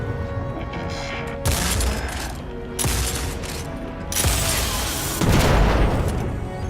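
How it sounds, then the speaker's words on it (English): A power weapon in Destiny 2 blasting targets: several heavy booming explosions in succession, each a loud broadband burst over a steady background of game noise, with no one speaking. "the power weapon is very useful for blowing stuff up"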